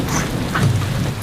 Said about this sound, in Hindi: हम वापस जा रहे हैं क्योंकि बारिश शुरू हो गई है।